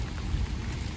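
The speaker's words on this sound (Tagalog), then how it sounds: "Umuulan kasi." Steady rain falling outdoors in Nara, Japan, a dense even patter with a low rumble underneath, continuous and moderately close throughout, with no voices.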